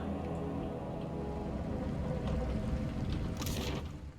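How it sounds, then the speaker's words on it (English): A waterfall in the game Pillars of Eternity 2: Deadfire rushes as a steady, broad wash of falling water, distant and echoing from below, with a slight swell midway. "Waterfalls echo in the distance below."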